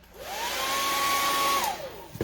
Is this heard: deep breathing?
no